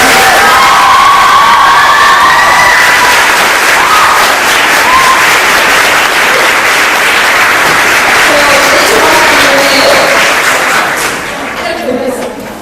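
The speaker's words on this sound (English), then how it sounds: "I think they deserve a round of applause for the rest of them" Children cheer, shout and clap in a loud crowd at a school gathering, a bright roaring mix of whoops and applause that holds strong before easing off near the end.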